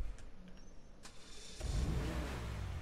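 A car engine in GTA 5 cranks with a few clicks, catches and settles into a loud steady rev, close and prominent with no talking.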